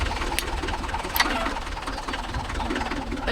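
A Mahindra 415 DI tractor engine runs in farmland with a 36-blade rotavator, giving a steady, heavy low rumble with faint knocking and no breaks.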